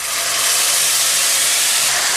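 Saag greens dropped into a hot frying pan of fried base send up a loud, steady, steamy sizzle. The broad hiss holds constant throughout with no voices.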